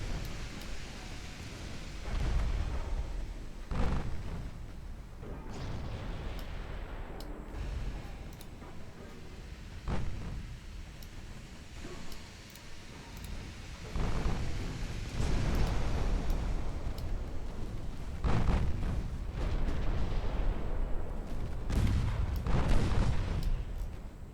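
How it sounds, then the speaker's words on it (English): Battleship main guns firing in a naval war game, deep booming blasts that rumble like thunder, several heavy shots spaced irregularly over a low background roar, some louder swells later on. "don't like that they've got their main guns firing at all"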